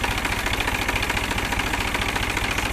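A New Holland tractor engine idles steadily, with a rough, even knocking pulse and a low mechanical drone, close and continuous with no voices.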